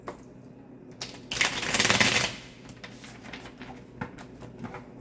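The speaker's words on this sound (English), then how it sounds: "Last shuffle." A new, still-sticky tarot deck is shuffled by hand, a dense riffling burst in the middle of a few scattered card taps and handling clicks, close and fairly quiet, with no talking.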